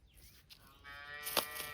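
A dairy cow for sale on a farm lets out a single drawn-out, close moo that rises in the second half. No one speaks.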